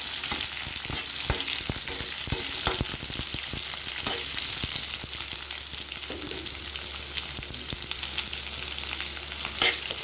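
Ingredients fry and get stirred in a pan for hotel-style poori curry, an even, continuous sizzle with frequent sharp clicks and scrapes from the stirring, steady and moderately quiet throughout, with no voices.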